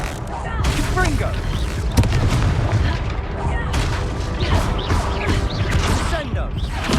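Booming, crackling explosions from the Confringo fire spell in the video game Hogwarts Legacy, bursting repeatedly over a dense, loud wash of combat noise, with a voice speaking over the action.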